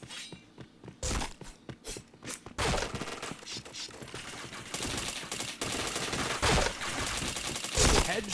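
Video-game gunfire comes in loud, rapid bursts of automatic shots broken by brief pauses, with sharp cracks and impacts layered throughout.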